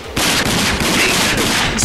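Rapid gunfire from the video game Rage, a dense burst of loud, close shots rattling continuously for under two seconds without speech.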